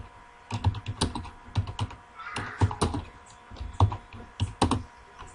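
Typing on a computer keyboard in a word processor, irregular bursts of crisp key clicks and thumps at close range, with brief pauses between words.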